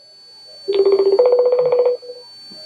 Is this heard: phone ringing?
yes